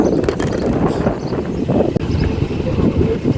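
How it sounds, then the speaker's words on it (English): Gusting wind buffets a phone microphone aboard a narrowboat cruising from Altrincham to Lymm, a steady loud rumbling roar with one sharp knock near the middle as the phone tips over. "The wind tipped the phone over."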